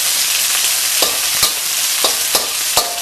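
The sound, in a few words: beef and broccoli stir-frying in pan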